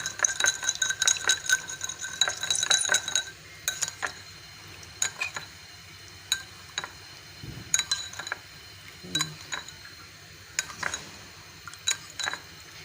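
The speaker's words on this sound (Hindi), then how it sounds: "अब ये चीनी हमने इसमें अच्छे तरीके से हल करनी है।" A spoon stirs sugar into a glass of lemon sharbat, making rapid bright clinks against the glass in a busy burst at first, then scattered single taps.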